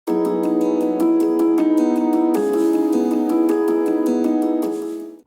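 Piano part from a melodic dubstep remix plays solo: repeated struck chords and melody notes in a steady rhythm, loud and close, with a chord change about halfway through and sustained ringing tails, no talking.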